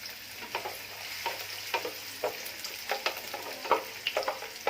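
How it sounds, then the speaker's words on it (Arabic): Sliced onions frying in a shallow pan with a little oil for koshari, a steady close sizzle with brief louder crackles and occasional stirring scrapes throughout, no voices. "لازم نبدأ طبعا بالبصل نحمره"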